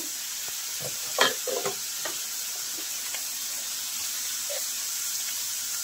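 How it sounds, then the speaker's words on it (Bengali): Onion frying lightly in a small amount of oil for a pomfret masala fish curry gives a soft, steady sizzle, with a few brief stirring scrapes near the start and no voices. "কম তেলের মধ্যে হালকা করে পেঁয়াজটা ভেজে নিলাম"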